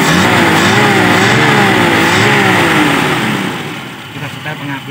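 Toyota Kijang Super engine held at steady high revs during carburetor tuning, a loud continuous mid-pitched drone with a wavering tone that eases off slightly toward the end.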